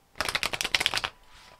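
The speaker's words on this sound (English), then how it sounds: "one more shuffle" A quick riffle of tarot cards being shuffled, a fluttering burst of rapid snaps lasting about a second, close by, followed by quiet.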